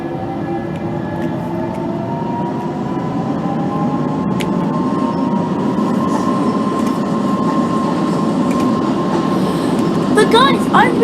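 A London Underground Central Line train in the OpenBVE simulator game hums and rumbles steadily as it gets underway, with a rising motor whine and a few clicks and squeals near the end.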